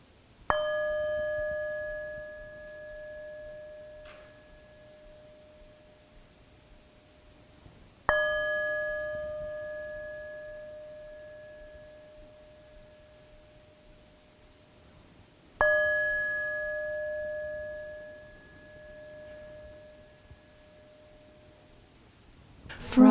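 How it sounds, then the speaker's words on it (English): A single bell is struck three times to open a worship service, each stroke ringing out clearly and fading slowly over several seconds before the next, with no talking over it. "prepare yourself for worship as we hear the sound of the bell"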